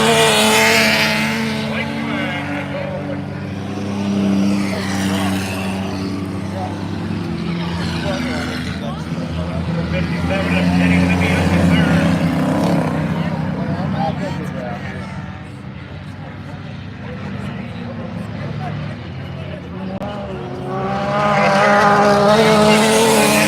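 A dirt track race car engine, its exhaust patched back together after limp mode, drones loudly and steadily at Unity Raceway, with a voice talking over it throughout.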